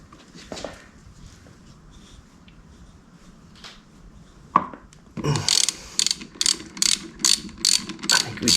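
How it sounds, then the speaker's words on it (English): A ratchet turns a flywheel puller on a vintage Yamaha Enduro, starting with quiet fiddling and a metallic clink, then a run of loud, close, evenly spaced clicking pulls. "Get my flywheel puller on here"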